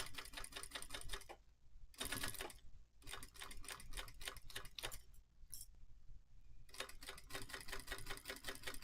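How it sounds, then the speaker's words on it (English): An off-brand sewing machine stitching clear vinyl runs in rapid bursts, a fast mechanical rattle stopping and starting several times, close and fairly quiet. "that's the great thing about my sewing machine"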